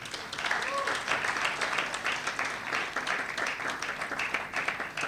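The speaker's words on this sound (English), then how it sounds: "Please give them a round of applause, please." A crowd gives a round of applause for volunteers at a ceremony: broad, even clapping sustained for several seconds, fairly close, with a brief voice briefly audible early on.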